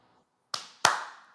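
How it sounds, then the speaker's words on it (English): A podcast host claps two sharp hand claps, close and crisp, about a third of a second apart, in a quiet room. "It's not as easy as it looks, is it, clapping?"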